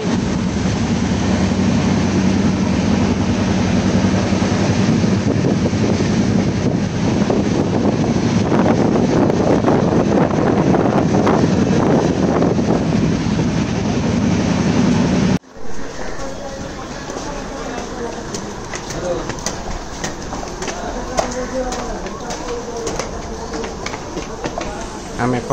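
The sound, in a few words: passenger train running, heard from on board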